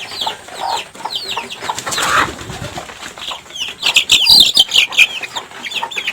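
A hen clucks softly and repeatedly close by while high-pitched chick peeps chirp in quick bursts, with rustling movement throughout.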